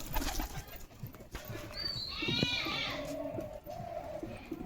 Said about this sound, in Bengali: দেখো কত সুন্দর লাইন দিয়ে খাচ্ছে পায়রাগুলো